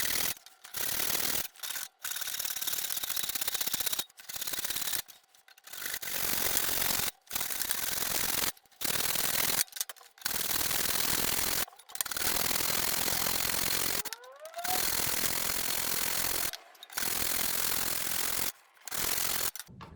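Hand saw cutting a guitar neck tenon, a steady run of rasping push-and-pull strokes broken by frequent short pauses, close and fairly loud with no talk.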